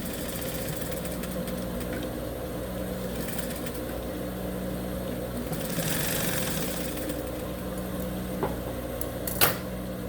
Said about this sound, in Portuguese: a gente vai passar aqui uma costurinha de cada lado